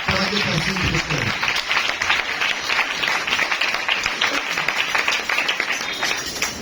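A church congregation at a Wednesday healing service bursts into sustained applause, dense steady clapping from many hands that fills the room and carries on at an even level throughout.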